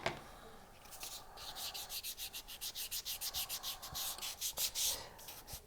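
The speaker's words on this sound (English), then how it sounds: "So I'm going to sand it a little bit evenly." A textured pendant piece is sanded by hand in quick, even back-and-forth strokes, a close, soft rasping rhythm of about two strokes per second.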